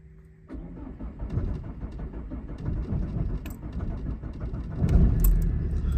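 A Vauxhall Astra Z19DT diesel van with worn glow plugs starts up in freezing cold: a click, then the engine churns and catches into a rough, loud idle that swells near the end.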